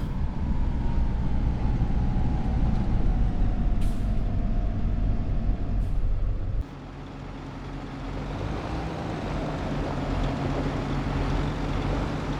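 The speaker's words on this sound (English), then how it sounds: "So let's put this tractor away" A tractor in Farming Simulator 25 drives with a loud, steady engine drone whose pitch slowly falls, then drops to a lower idle hum partway through, with a few faint clicks.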